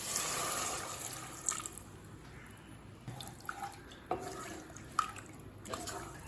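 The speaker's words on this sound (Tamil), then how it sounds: "1 கப் அளவுக்கு தண்ணி சேர்த்துக்கலாம்." A cup of water goes into freshly ground spice paste while making paneer kurma: a quiet splashing pour at first, then scattered faint clinks and drips in a quiet kitchen.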